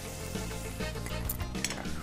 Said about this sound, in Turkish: Patatesleri de size söylemiştim. Biraz mutlaka ben kızartıyorum diye.